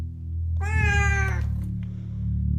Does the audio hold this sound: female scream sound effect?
no